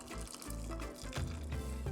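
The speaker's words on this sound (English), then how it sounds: "And you're just gonna wanna pour it till it covers the onions." Pickling liquid is poured steadily over sliced onions in a jar to make sweet pickled onions, giving a soft, continuous trickle and gurgle heard up close.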